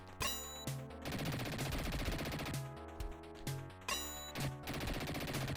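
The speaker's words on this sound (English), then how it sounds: "now just fill you with bullets" Rapid gunfire from the Sega Genesis game Dick Tracy, synthesized shots bursting repeatedly over a busy chiptune music track, loud and continuous with sharp bright bursts recurring every second or so.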